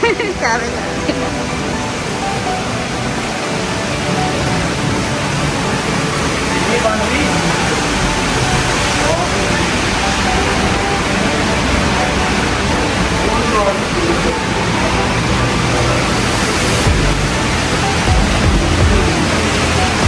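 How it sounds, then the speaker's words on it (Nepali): Heavy rain pours down without a break, a dense, loud hiss that stays steady from start to finish. "खतरा पानी परिरहेछ आज है।"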